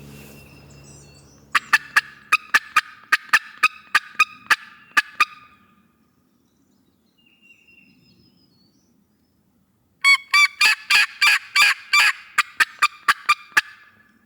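An eastern wild turkey gobbles in hardwoods in early April, two loud rattling bursts, each a quick string of pulses, separated by several seconds of near silence.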